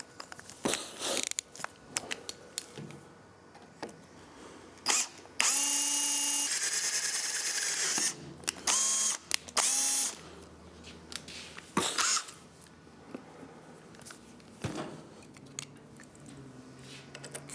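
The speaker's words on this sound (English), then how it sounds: "Start with a number 9 drill, or a 3/16 if you don't have a number 9" A power drill whines in a sustained burst of several seconds, boring a hole with a number 9 bit on a 2024 Triumph Speed Twin 1200 motorcycle, surrounded by scattered clicks, taps and short scraping noises.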